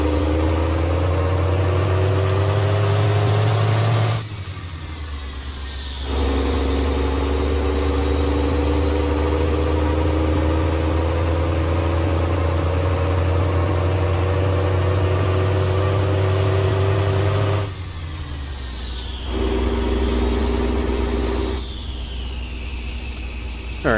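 Car engine idling in gear with the window down, a loud steady low rumble that dips briefly twice as the revs shift, heard close with no talking.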